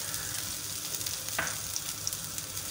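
Ginger garlic paste sizzling in hot oil in a pan, a bright, steady crackling fry with a few sharper pops, close and loud.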